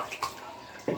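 Tap water runs while dogs are being bathed, a steady faint splashing hiss that stays low under brief bursts of nearby noise.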